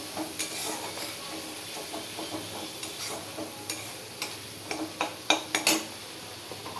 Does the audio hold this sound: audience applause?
no